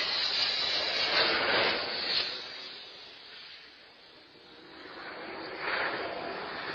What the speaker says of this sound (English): you can kind of hear the airplane coming in over the top of this home